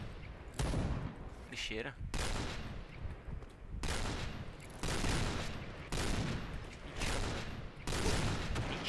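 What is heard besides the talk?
gunfire in a video game (Point Blank)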